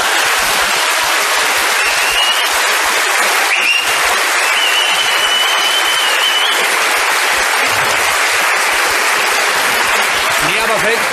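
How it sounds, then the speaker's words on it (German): A studio audience at a German comedy panel show breaks into loud, sustained applause, a dense wash of clapping that fills the whole stretch, with voices faintly mixed in underneath. "Lassen Sie sich nicht von der Geste davon abhalten, zu klatschen."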